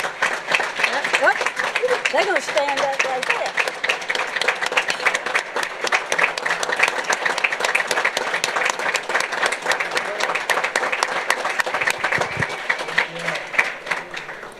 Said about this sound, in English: we want a big round of applause for that big accomplishment